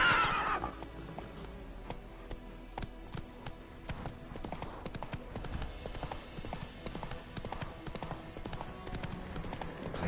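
Roach the horse trots in The Witcher 3, with steady clip-clop hoofbeats and a brief whinny over layered game ambience and music, heard at a moderate, even pace.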